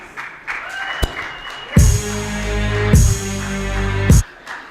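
An audience breaks into applause several times, bursts of clapping swelling and fading between brief bits of music and sharp hits.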